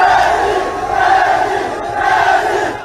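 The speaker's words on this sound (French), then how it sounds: "Devant le domicile d'Ousmane Sonko, la foule afflue." A large crowd of supporters gathers outside Ousmane Sonko's home, a loud, dense roar of many voices rising and swelling together with shouting and chanting throughout.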